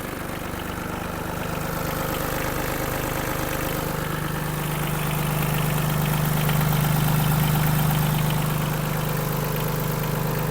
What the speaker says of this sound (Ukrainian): Просто ідеальна робота двигуна.